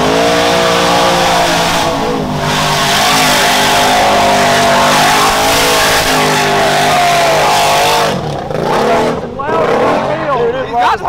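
Honda off-road vehicle at a mud bash event at Busco Beach, engine revving hard and very loud, a sustained roaring whine that drops and sputters near the end.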